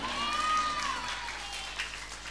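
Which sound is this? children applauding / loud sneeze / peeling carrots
children applauding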